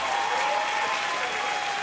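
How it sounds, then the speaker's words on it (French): Steady, dense applause from a church congregation fills the space, many hands clapping continuously at a fairly loud level with no pauses or speech on top. "Par applaudissement, qui va bien dans ce lieu?"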